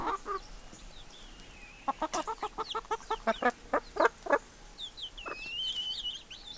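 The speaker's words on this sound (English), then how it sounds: "So many chickens in one place." Many chickens in a crowded coop in Jervis Bay in the morning, giving a rapid run of loud close clucks and squawks in a burst, followed by higher drawn-out calls, with no talking.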